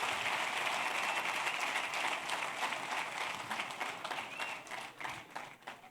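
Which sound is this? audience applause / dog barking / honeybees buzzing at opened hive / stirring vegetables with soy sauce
audience applause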